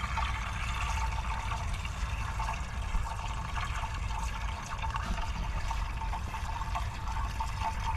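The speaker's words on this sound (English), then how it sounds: "Sounds more like simmering fat at the bottom." Fat simmers at the bottom of a titanium rice cooker holding bacon-wrapped meatloaf over a fuel burner, giving a continuous, even, bubbling hiss at moderate level with no talk.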